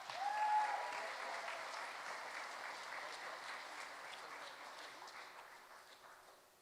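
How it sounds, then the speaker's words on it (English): Sustained audience applause at a city mayor's education awards ceremony, a dense wash of clapping from a large crowd that swells in the first second and then holds steady before slowly fading. "one more big round of applause for Smyrna Elementary School"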